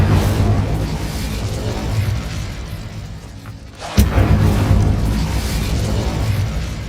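An Incendio fire spell cast in Hogwarts Legacy lands as a single loud whooshing burst partway through, over a steady rumbling background of game ambience.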